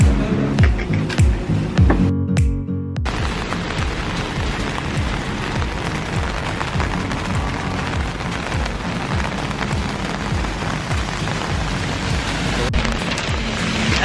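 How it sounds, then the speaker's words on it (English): Heavy rain pours down hard in Seoul, a loud, unbroken hiss of drops on surfaces that runs throughout with only a brief dip early on and no voices. "It's raining so hard."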